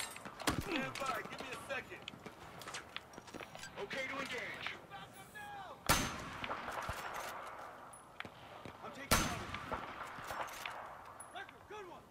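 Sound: gunfire and artillery in video game Battlefield 4

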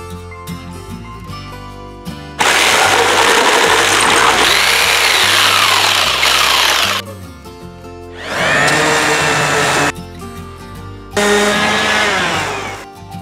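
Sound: power tool cutting excess wood

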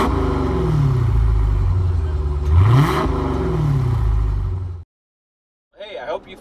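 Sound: car driving off

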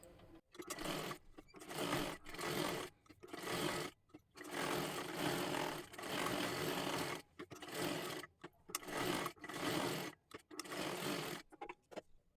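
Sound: sewing machine stitching a dress

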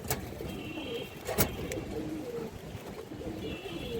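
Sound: female Kaldam pigeon cooing

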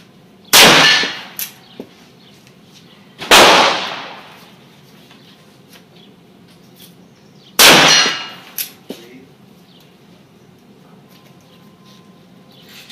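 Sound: Beretta Stampede 45 Colt revolver shots hitting steel targets

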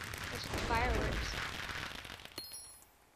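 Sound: fireworks in Minecraft video game

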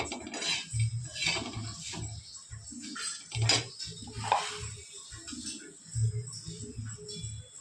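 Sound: stirring garlic fry mixture in a pan

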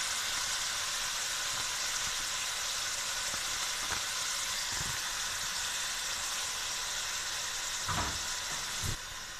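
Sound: kidneys frying in pan for achari gosht

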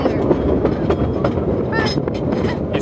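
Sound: train ride

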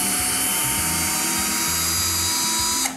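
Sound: cordless screwdriver unscrewing a shipping crate lid

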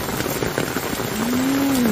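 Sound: heavy rain falling

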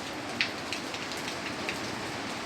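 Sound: rain falling on champaka plants

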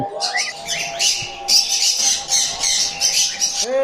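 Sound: sun conure parrot squawking

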